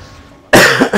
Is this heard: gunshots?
no